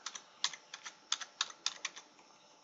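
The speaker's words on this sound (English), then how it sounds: "We do that by typing" Fingers tap a computer keyboard in quick, uneven bursts of crisp clicks, close and clear against a quiet room.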